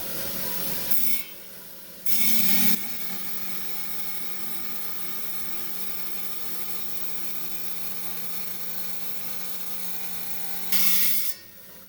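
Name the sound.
trimming a Sarape jasper slab for a cabochon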